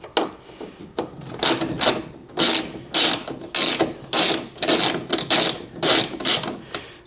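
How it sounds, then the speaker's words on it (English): A ratchet wrench with a 6mm socket loosens taillight bolts on a pickup truck, giving repeated quick bursts of clicking pawl rattles in a steady back-and-forth rhythm, close and clear with no talking. "take our 6mm socket and wrench and go right here, and we're gonna loosen up the taillights"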